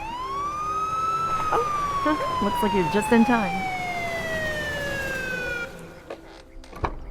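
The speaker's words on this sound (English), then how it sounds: "Don't let the sirens worry you." In a horror-film scene, an emergency siren wails with a slow, falling pitch that fades toward the end, while people talk over it.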